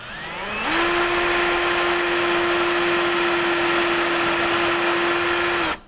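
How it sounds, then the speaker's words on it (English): A power drill bores a pilot hole into a wooden workbench top, its motor spinning up quickly and then holding a loud, steady whine for about five seconds before cutting off. "let's go ahead and run a pilot hole right in there"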